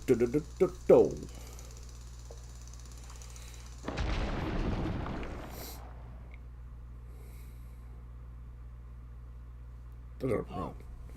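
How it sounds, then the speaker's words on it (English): A Rock Raider in a Lego video game drills a rock wall, producing a harsh grinding roar of about two seconds that trails off. Brief sharp sounds come before it and a short one follows. "One of your rock raiders will go and drill the wall."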